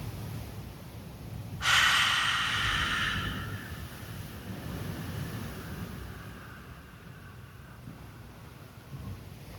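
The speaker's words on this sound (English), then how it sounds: "Then exhaling out of your mouth for 8 seconds with the deep sigh." A single long, deep sighing exhale through the mouth, heard close to the microphone: a sudden breathy rush that slowly fades away over several seconds, followed by quiet.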